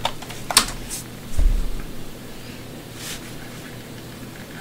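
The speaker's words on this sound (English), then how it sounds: "I'm going to type in my email address, and then my password." Typing an email address and password on a computer keyboard, soft rapid keystrokes with a few sharper clicks over a steady background hum, close with no talking.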